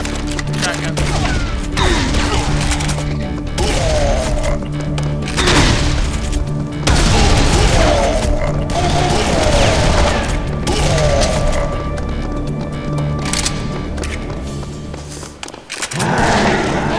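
Shotgun blasts from Serious Sam 3 gameplay, a string of loud booming shots spread through the clip over a dense bed of game noise and music, with voices talking at times.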